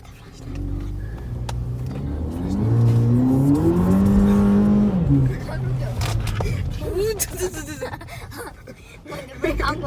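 A Volkswagen Polo GTI engine revs up hard under acceleration, its tone climbing, holding high, then dropping back, over road noise with people talking in the cabin.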